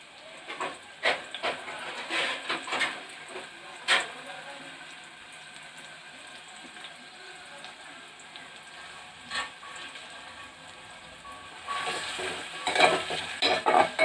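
Onions and green chilies fry in a pan for a mutton curry, a steady close sizzle and hiss broken by clattering stirring strokes, louder spells of scraping near the start and at the end.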